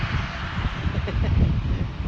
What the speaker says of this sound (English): it's just like so windy out here.